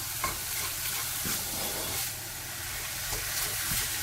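Ground beef mince sizzles steadily in a frying pan with no added fat while it is broken up and stirred, with close scraping strokes over a continuous crackle and no voices.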